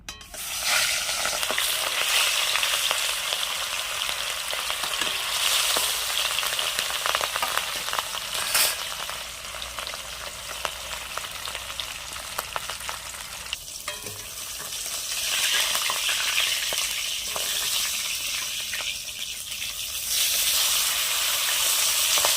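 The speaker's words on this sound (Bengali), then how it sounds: "এবার আমি কড়াইতে মাছ দিয়ে দিচ্ছি" Rohu fish pieces fry in hot oil in a wok, giving a loud, steady sizzle and hiss that runs without a break, with occasional stirring scrapes and spatter pops.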